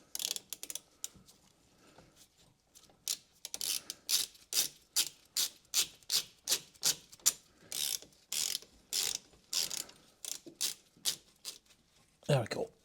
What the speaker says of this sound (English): last bolt to take out